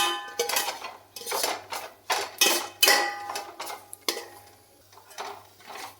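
Green chillies sauté over a low flame in a pan for Kerala beef curry, a spoon scraping and clinking against the metal in irregular close strokes above a faint low sizzle.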